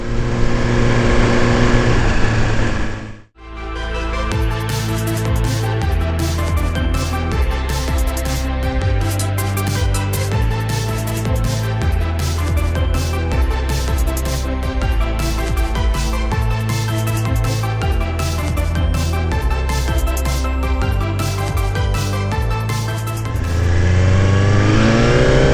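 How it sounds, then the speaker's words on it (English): A 2018 Suzuki GSX-R1000R accelerating hard, its loud close engine climbing in pitch, dropping briefly at each quickshift, then climbing again through several gears. "Just hang on that throttle and tap that shifter"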